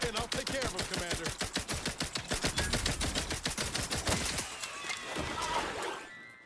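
Rapid bursts of rifle gunfire in The Outer Worlds 2, a fast, evenly spaced volley of sharp shots at close range that runs for several seconds before trailing off into a fading, echoing tail.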